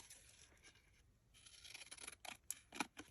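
Scissors cutting across a collaged paper masterboard for journal cards, several crisp close snips and slicing strokes with a quiet paper rustle between them.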